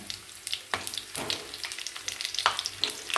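Stuffed capsicums fry in hot oil in a pan, crackling and spitting with sharp, irregular splatter pops over a steady sizzle, loud and close.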